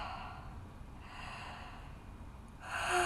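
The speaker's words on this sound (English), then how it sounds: "open mouth breaths here." Deep, audible open-mouth breaths during a restorative yoga session, close and soft, with a long exhale swelling louder toward the end and no talking.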